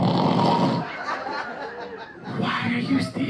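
A comedian imitates snoring with a voice: loud rasping, throaty snorts up close, broken by a short pause and then another burst.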